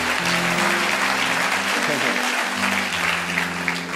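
A church congregation applauds in steady, loud clapping through the whole stretch, with voices singing or calling along underneath.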